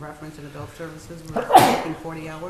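An adult sneezes once, loud and close, during a town finance committee budget meeting, cutting across ongoing speech from another person.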